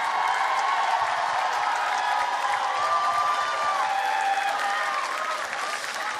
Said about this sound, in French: Applaudissez encore plus fort pour influencer le jury, s'il vous plaît.